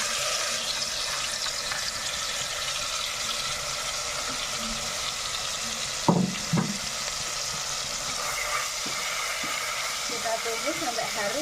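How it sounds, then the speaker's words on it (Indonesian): Ground spice paste sizzles in hot oil in a pan, cooking for a Javanese lodeh of eggplant, melinjo and black-eyed peas. A continuous loud frying hiss, with a short clatter near the middle and a voice toward the end. "Kalau sudah panas, kita tumis ya bumbu yang kita haluskan tadi."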